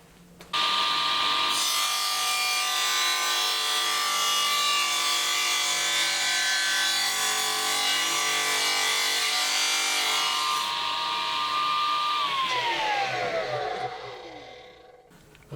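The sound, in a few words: cutting a slot in wood for cupboard doors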